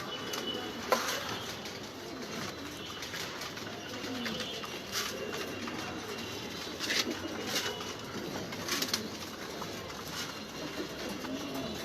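Pigeons eating grit give quiet coos, light pecks and occasional wing flaps at close range over a continuous low background hiss.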